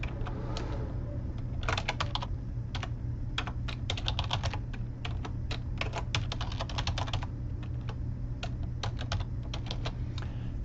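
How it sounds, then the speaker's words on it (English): Computer keyboard typing as text is entered into form text boxes, a steady run of quick clicking keystrokes in bursts over a constant low hum, close and clear with no talking. "We'll go ahead and enter some text here."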